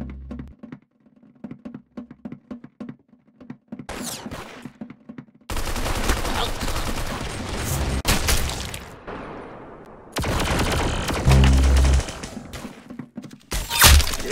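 Gunfire in the Roblox game Arsenal: a rapid rattle of shots, then dense loud bursts of automatic fire broken by brief pauses, punchy and close throughout.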